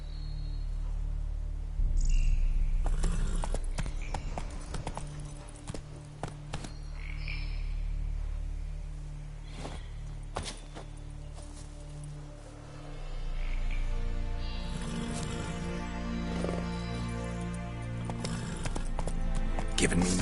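Roach the horse galloping in The Witcher 3: Wild Hunt, steady hoof clip-clops running through most of the stretch over game ambience, with a brief voice near the start.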